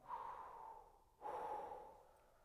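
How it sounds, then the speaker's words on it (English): Two deep, slow breaths drawn in one after the other by a horn player, each a close, breathy inhale. "That's the sound that you want to be hearing when you're taking an inhale."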